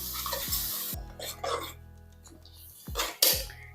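Masala being sautéed with yogurt in a pan for mushroom biryani, a few short scraping stirs and soft sizzling bursts over a low hum, with quiet gaps between strokes.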